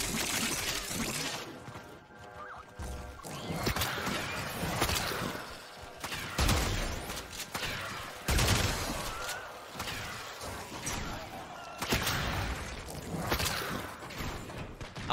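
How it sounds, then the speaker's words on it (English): Rapid gunfire in the video game Warframe, with dense, repeated shots and metallic impacts running steadily through the whole stretch over a busy layer of game sound effects. "I like how I shot him with that through a wall."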